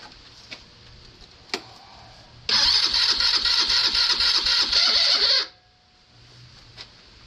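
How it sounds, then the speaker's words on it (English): A starter motor cranks loudly for about three seconds with a rapid rhythmic whir, then cuts off, with a few faint clicks before and after. "I don't like that starter sound."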